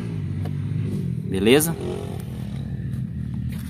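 A Honda Pop 110i fuel-injected 110 cc motorcycle starts up with a brief rising rev, then settles into a steady idle, close by, while a person speaks briefly over it.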